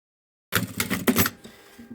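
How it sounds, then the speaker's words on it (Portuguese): A sewing machine stitching a safety seam around a plastic piece, heard as a close, rapid clattering run of needle strokes that fades to a lighter mechanical hum toward the end. "Uma costura de segurança em toda a volta aqui da minha peça"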